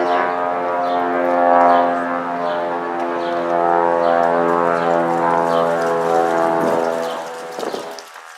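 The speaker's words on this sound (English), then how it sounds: "Airplane there." Propeller airplane flying over a canal, its loud harmonic engine drone holding steady and close for several seconds before fading out.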